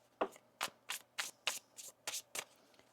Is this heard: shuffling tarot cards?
yes